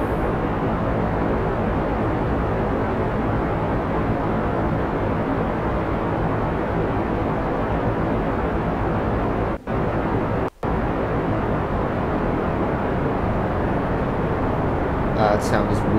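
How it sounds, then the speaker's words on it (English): A steady, loud, unbroken roar of rocket engines from a modded Kerbal Space Program spacecraft continues throughout, with two very brief dropouts near the end. "I love the sound of these engines, though."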